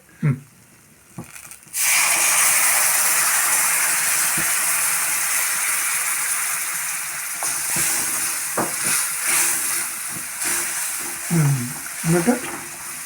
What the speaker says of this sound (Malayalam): ഇതിലേക്ക് പുളിവെള്ളം കൂടെ ആഡ് ചെയ്യണം അല്ലേ?